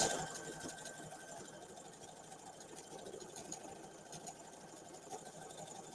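A sewing machine runs steadily along a fabric edge, a continuous faint mechanical whir with a fine rapid stitching pulse and no pauses, heard alone at low level.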